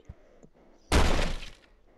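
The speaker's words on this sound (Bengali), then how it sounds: "স্লেজ হ্যামার পেয়ে গেছি, এটাতে আমি দেওয়াল ভাঙতে পারি।" A sledgehammer smashes through a wall in the video game Mad Granny, a single loud crashing, crumbling burst lasting about half a second after a few faint knocks.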